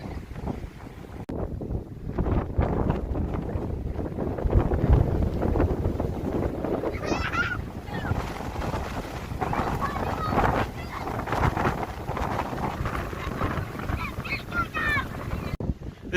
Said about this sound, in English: It's just so windy.